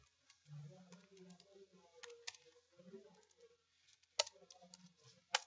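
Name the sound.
typing on a computer keyboard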